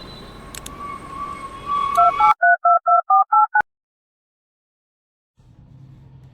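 A telephone is dialed: a run of about seven short, evenly spaced keypad tones comes after background noise, then silence, and a faint low hum returns at the end.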